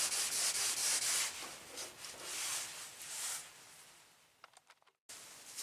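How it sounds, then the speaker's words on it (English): Car paint is hand-sanded around vinyl stripe decals on a Candy Apple Red Monte Carlo SS, giving close, steady rasping strokes in a soft back-and-forth rhythm that thin out into brief scuffs before a short pause and one last pass. "Once you finish sanding everything, just get you a rag and just clean it up."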